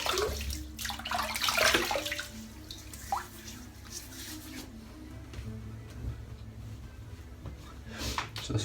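Water splashing and running as a head is wetted before a shave, close, wet splashes and trickles loudest in the first two seconds, then softer drips and handling sounds.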